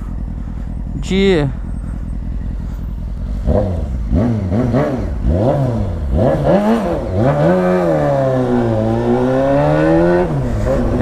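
Carbureted Honda Hornet 600 motorcycle revving and accelerating while being ridden on the road, with engine pitch rising and falling through repeated throttle blips and gear changes, loud and close, with people talking over it.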